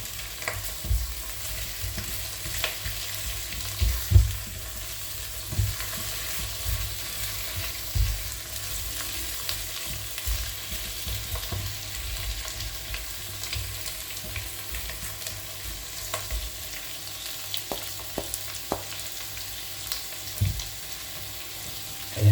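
Aromatics sizzle and fry in a pan for Filipino ginataang isda before briefly pre-fried tuna goes in, a steady crackling hiss with occasional stirring clinks, close and continuous, no talking.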